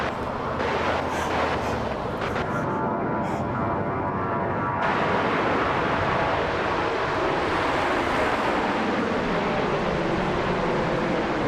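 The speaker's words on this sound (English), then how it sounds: "It looks like a Southwest is taking off." A Southwest airliner takes off from Las Vegas airport, its jet engines producing a loud, continuous roar that fills the whole stretch, with the tone shifting partway through as the aircraft accelerates.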